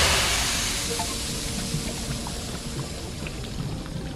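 Water gushing back on in The Inn - Sanity, a steady broadband rush of running water that starts full and slowly tapers slightly, continuous with no talk.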